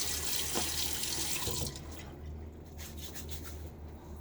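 A bathroom tap runs steadily into a sink before shaving, a loud hissing flow that cuts to a quieter trickle partway through, with no talk.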